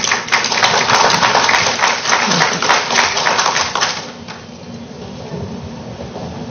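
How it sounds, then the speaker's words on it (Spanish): Dense crowd applause at a public citizens' meeting with a congresswoman, a loud continuous wash of many hands for about four seconds before it fades to a quieter room murmur. "un aplauso para ella"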